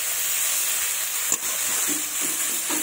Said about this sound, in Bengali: এভাবে নাড়াচাড়া করতে থাকবো।